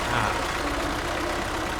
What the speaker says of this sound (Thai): นี่รถไถคลาสสิกครับผม